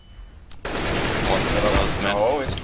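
Rapid gunshots in a Counter-Strike match on the Forest map, a sudden dense burst of automatic fire that continues loudly, with a player's voice faintly mixed in.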